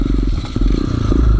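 Off-road motorcycle on a rough mountain trail in Benguet: a loud, close engine drone with gravel crunching and clattering under the tyres, steady throughout.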